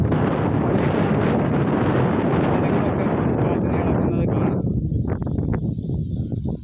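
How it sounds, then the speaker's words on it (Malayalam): Strong wind roars and buffets steadily against the microphone, a dense rumbling rush that eases slightly toward the end. "ഈ കാറ്റ് ഈ വീഡിയോയിൽ കാണിച്ചു തരാൻ വയ്യാത്തൊരു സംഭവമാണ്"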